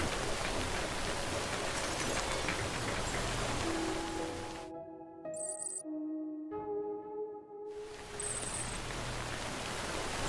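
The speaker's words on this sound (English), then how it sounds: "Rain's not letting up." Steady broadband rain hiss fills the scene in the video game Death Stranding, with a few seconds where the rain drops out to a quiet pause with tonal game sounds before the downpour returns.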